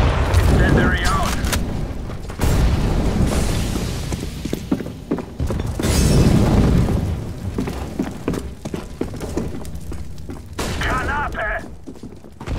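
Grenade and incendiary blasts go off in Counter-Strike: Global Offensive, with loud booms and rumbling bursts mixed with scattered gunfire across the scene and voices calling out over the action.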